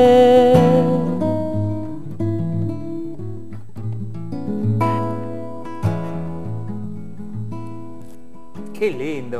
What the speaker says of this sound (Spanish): lo que están escuchando es su voz y su guitarra